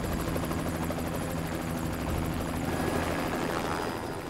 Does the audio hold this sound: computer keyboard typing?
no